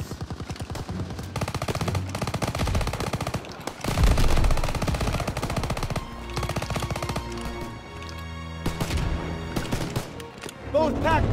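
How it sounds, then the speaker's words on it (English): German PAK 38 anti-tank gun and battlefield weapons firing on tanks in a Call of Duty WWII battle in Normandy, July 1944: loud bursts of machine-gun fire and sharp gunshots, with a heavy blast near the middle, under shouted game voices. "And PAC-38 still has a gunner! It's firing on our tanks!"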